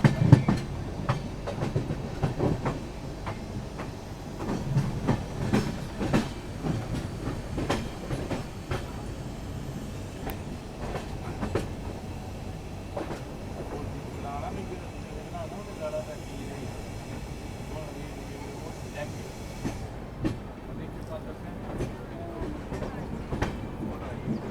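Rajdhani Express 12431 pulling into Panvel station, a steady rumble of rolling stock with rhythmic clickety-clack of wheels over rail joints, heard from on board near the door as people talk nearby.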